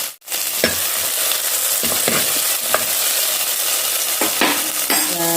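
Onion and tomato masala stirred in a pan for a Mangalore-style mackerel fish curry: steady frying sizzle with a few sharp scrapes of a spoon against the pan, close and uninterrupted by talk.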